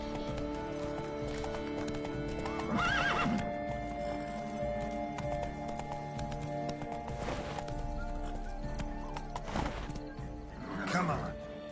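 A horse in The Witcher 3 trots with steady clip-clopping hooves and lets out several loud whinnies, mixed with game music and character voices speaking.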